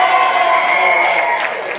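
A crowd at a kids' costume contest screams and cheers loudly in a sustained roar, tapering slightly toward the end.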